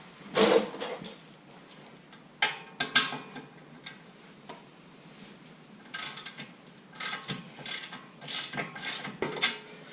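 Hand tools work loose the brake caliper bracket bolts on a Camaro, giving bursts of quick ratchet clicking and metallic ticks in short runs, with pauses between, close and fairly crisp.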